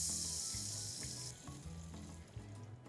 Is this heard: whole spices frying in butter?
yes